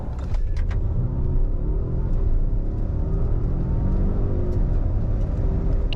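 A 2024 Volvo XC90 accelerates hard in a performance test, a steady, loud engine and road rumble with a rising whir running throughout, no voices over it.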